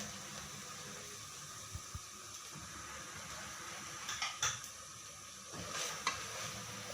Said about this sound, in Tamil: இப்போ வந்து கண்டென்ஸ்டு மில்கை வந்து பாதி ஊற்றிட்டு நல்லா கிண்ட ஆரம்பிங்க